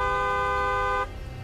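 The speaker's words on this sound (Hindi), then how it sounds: "अचानक से मुझे गाड़ी के हॉर्न का आवाज सुनाई दिया।" A car horn sounds once as a single steady, close blast lasting about a second, then cuts off abruptly into quiet.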